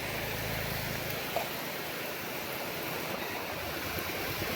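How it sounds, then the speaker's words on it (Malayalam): Heavy rain pours down at Kottiyoor, a dense, even wash of steady roaring noise with no breaks, moderately loud and with no talking. "മഴ എന്ന് പറഞ്ഞാൽ കൊട്ടും മഴ"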